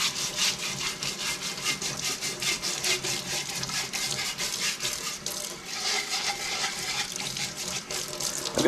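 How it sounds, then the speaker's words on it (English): A brush scrubs a rusty can steeped in lemon juice and water, giving quick, rhythmic rasping strokes that continue steadily and loudly over faint running water. "I'm just lightly rubbing it with a brush."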